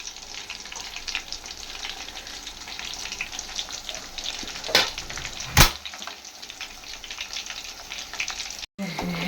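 Cauliflower 65 pieces deep fry in hot oil with a steady bubbling sizzle, a couple of sharp clinks or splashes standing out, and a brief cut near the end.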